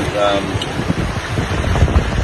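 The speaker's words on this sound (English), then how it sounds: "There's quite a bit of swell and pretty windy." Gusty wind buffets the microphone aboard a 19-foot sailboat in ocean swell between Panama and the Marquesas, a rough, rushing roar rising and falling in short bursts.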